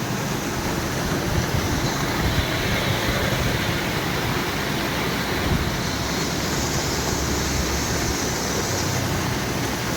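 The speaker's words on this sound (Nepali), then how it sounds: "पानीको भल पानीको भल आइरहेछ" A monsoon floodwater torrent in Nepal rushes past as a loud, dense, unbroken roar that stays constant from start to finish, with no voices over it.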